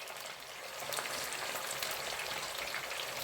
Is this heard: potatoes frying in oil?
yes